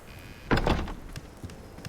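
A back door opens in a cold-weather survival game, a sharp thunk followed by a short creaking slide, then a couple of faint knocks as it settles.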